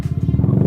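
A Honda Beat FI scooter engine revs up close and loud, a steady low pulsing throb that holds without talk over it.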